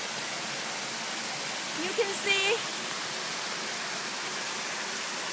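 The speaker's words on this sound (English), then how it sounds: "See, here is Wang Sai Waterfall" Wang Sai Waterfall on Ko Phangan produces a steady, even rush of falling water throughout, a broad hiss at moderate level, with a brief spoken voice in the middle.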